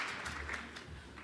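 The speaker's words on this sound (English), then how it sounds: "Let's give a round of applause to Dr. Restoule" Audience applause for Dr. Restoule at an Indigenous mental health event, a quiet, distant patter of clapping lasting about a second.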